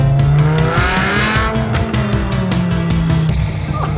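A 500-horsepower V10 saloon car engine revs hard and climbs in pitch, loud and close, with a raspy high-revving roar and rapid gear changes.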